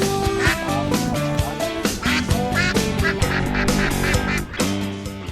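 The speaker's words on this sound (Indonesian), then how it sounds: "suara bebek betina lebih besar dan nyaring seperti ini" A female duck quacks loudly and nasally in a rapid string of repeated calls, packed closely together with other tonal sounds and no clear pauses.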